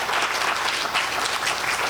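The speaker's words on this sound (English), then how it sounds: "Another round of applause for our panelists" A steady, dense round of audience applause for panelists at a career connections alumni panel, even and sustained throughout, with no voices standing out.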